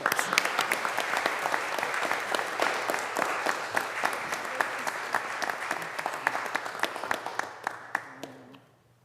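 An audience at a county board of commissioners meeting applauds with steady, crisp clapping that holds for several seconds, then fades out as individual claps trail off.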